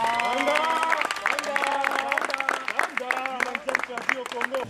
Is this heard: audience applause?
yes